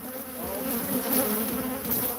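A large swarm of bees, tens of thousands packed between the comb layers of a hive, drones in a dense, continuous buzz that stays loud and steady throughout, heard close up with no voices.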